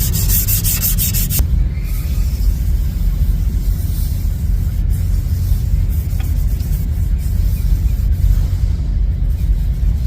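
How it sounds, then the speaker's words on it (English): Wood being hand-sanded with finer sandpaper in a woodworking shop, a steady close scratchy rubbing that continues unbroken and alone. "now I'm gonna just do some finer sandpaper here"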